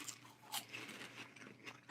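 Someone bites into and chews crunchy, lightly salted popcorn, giving quiet, crisp, irregular crackles close to the mouth, with no talking.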